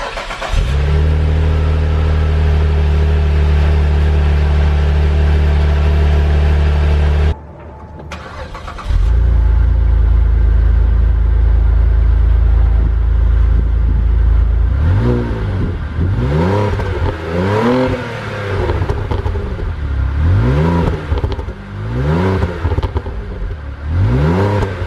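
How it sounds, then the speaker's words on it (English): A 2006 Saab 9-3 Aero idles loudly, cuts off briefly, then warm-restarts and settles into a rumble before several sharp revs rise and fall near the microphone. "I'm going to get a warm start and then a couple of revs for you guys right now."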